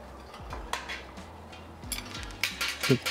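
A metal lid is handled and set onto a home brewing vessel, giving a few sparse, faint metallic clanks and taps that end in a brighter clink.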